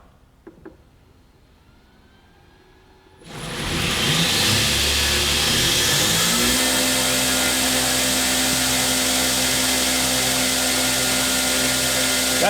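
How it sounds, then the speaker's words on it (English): A Northridge Tool 2X72 belt grinder switches on after a few quiet seconds and two faint clicks, then spins up into a loud, steady whir that holds evenly with no talking. "That is a damn smooth grinder"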